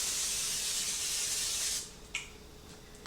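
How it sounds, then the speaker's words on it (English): Non-stick cooking spray hissing onto a 9x13 baking dish, a continuous close spray burst of almost two seconds that cuts off, followed by a few light clicks and taps. "I'm going to be spraying a 9x13 baking dish with just some non-stick cooking spray."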